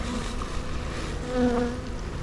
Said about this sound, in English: I got another warning shot from a bee.